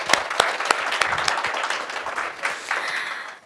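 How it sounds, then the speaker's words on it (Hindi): An audience breaks into applause, several distinct claps up front blending into a busy, moderately loud patter that thins toward the end. "एक बार ईशा जी की मॉम के लिए ज़ोरदार तालियां हो जाएं।"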